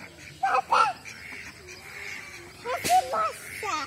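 A little girl imitates a duck's call with a few short, nasal quacking bursts, a pair early on and another cluster near the end, close and fairly loud.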